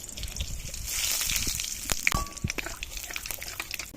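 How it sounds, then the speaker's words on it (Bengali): Dried chillies and black cumin hitting hot mustard oil in a pan, a soft steady sizzle with scattered pops and crackles, close and fairly quiet, no voices. "সর্ষের তেল ফোড়ন করে তেল গরম হয়ে গেছে এবার দিয়ে দেবো শুকনো লঙ্কা আর দিয়ে দেবো কালো জিরে"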